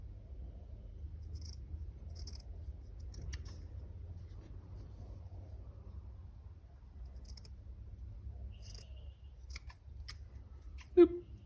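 Scissors snip through material to cut small triangle ears for a yarn owl craft, with quiet intermittent crisp clicks and snips close by over a low steady background hum.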